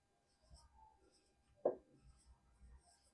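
A pen moves across paper in brief, faint scratches during a class 12 maths lesson, with one louder tap near the middle and quiet stretches between strokes.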